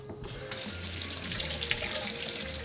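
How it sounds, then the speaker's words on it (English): Tap water runs steadily into a sink as fingers are rinsed under the stream, a continuous close splashing rush that starts abruptly after a brief quiet moment and holds at an even level. "So, let me just rinse my fingers."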